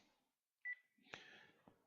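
A telephone gives a short electronic beep followed by a few fainter clicks and tones, quiet and isolated with no talking over it.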